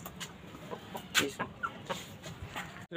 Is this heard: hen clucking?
yes